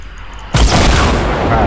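An explosion in the video game Fortnite, a sudden loud boom that bursts in after a quiet lead-in and rumbles on, close and heavy.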